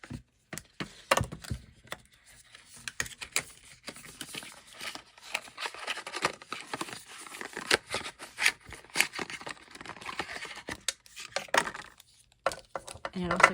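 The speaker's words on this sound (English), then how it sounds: "I'm going to use scissors." Scissors snip and cut open the packaging of a stationery subscription box, heard as close, irregular clicks and crinkly plastic rustles, with bursts of handling noise.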